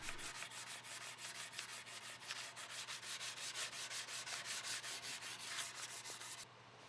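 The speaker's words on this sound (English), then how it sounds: "I'll hand sand the edges, make sure everything's good and smooth and ready for a finish" The edges of a wooden cutting board are hand sanded with 220 grit paper, making a steady, close, rhythmic rasp of quick back-and-forth strokes that stops abruptly near the end.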